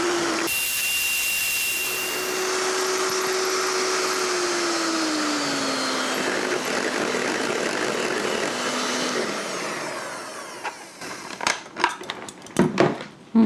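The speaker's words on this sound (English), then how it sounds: "I use my big stand mixer." A big electric stand mixer runs steadily with a loud whirring drone whose pitch drops slightly as it works. It then shuts off, leaving clattering handling sounds close by.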